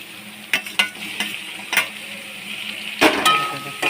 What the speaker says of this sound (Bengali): এই যে পেঁয়াজ রসুন ভাজা হচ্ছে এবার দেবো আদা বাটা